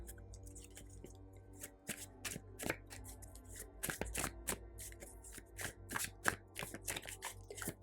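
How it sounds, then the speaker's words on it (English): Tarot cards are shuffled by hand in a quiet room, making a rapid series of crisp riffling slaps and soft flicks that come in uneven bursts with no talking. "I'm going to go ahead and shuffle your cards."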